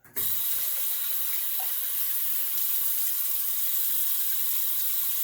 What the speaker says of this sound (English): let me rinse off the brush really quick